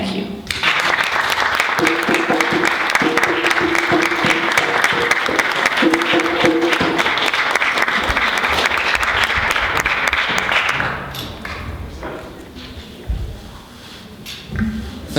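Audience applause at a Black Mental Health Week closing ceremony, loud sustained clapping from a crowd with some cheering for about eleven seconds, then tapering off as a few scattered claps and voices remain.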